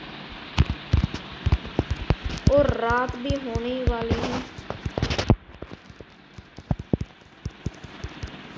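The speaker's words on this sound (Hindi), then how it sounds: "और भाई कब की ये बारिश हो रही है," Steady rain patters down throughout while someone talks over it, with a few sharper drips standing out.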